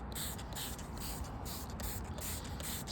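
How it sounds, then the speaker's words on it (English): A steady hiss of coffee dye spraying around a leaf outdoors, continuous with slight pulses as the sprayer is pumped, fairly close and moderately loud. "This time I'm just going to spray around the leaf."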